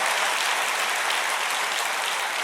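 A church congregation applauds during a sermon: a dense, even wash of many hands clapping at once, loud and sustained with no voices over it.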